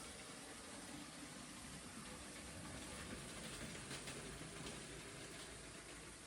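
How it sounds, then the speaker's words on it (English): An HO-scale model train runs around an upper layout, giving a steady, faint rolling hiss and rumble with light clicking from the track, continuous and unbroken, with no talking. "So we've got the train moving around the layout"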